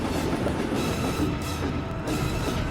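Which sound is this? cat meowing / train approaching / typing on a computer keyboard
train approaching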